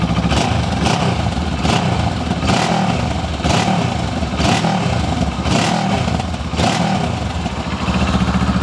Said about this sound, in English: Just give it a bit of a rev.